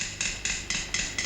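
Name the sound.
surgeon striking with a hammer during 1950s surgery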